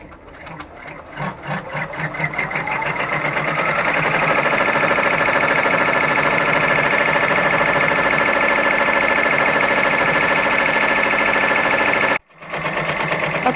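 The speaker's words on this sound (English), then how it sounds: "the machine is finishing up on this satin stitch" A sewing machine runs a satin stitch around a fabric applique, a fast steady mechanical hum and chatter that ramps up and holds loud for several seconds before briefly stopping and restarting.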